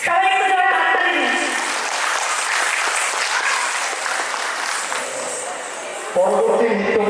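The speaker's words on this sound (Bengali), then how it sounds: "সবাই একটু জোরে হাততালি দিন।" An audience claps loudly and continuously at a stage dance performance honouring Tagore and Nazrul. The applause is sustained, and a voice rises over it near the end.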